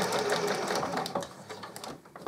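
A sewing machine stitching a shirt collar, a fast even run of needle strokes that slows and stops near the end, close and clear with no talk.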